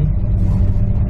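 A car climbing a plowed, snowy and icy farm driveway hill, heard as a steady low engine rumble from inside the vehicle, loud and continuous for a brief moment.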